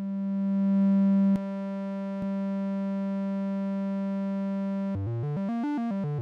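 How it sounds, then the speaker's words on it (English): A pure, steady sine tone from oscillator 1 of the SynthieCat, a recreation of the EMS Synthi A synthesizer, hums alone with two short clicks, then breaks into rapidly stepping, chirping pitches at the end. "We can use the sine wave of oscillator 1 at the same time by connecting it to the output"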